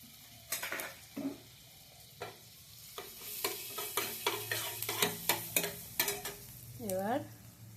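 Nigella seeds sizzling in melted butter in a pan, with a soft steady sizzle under repeated scraping and clinking strokes of a stirring spoon, close and fairly quiet.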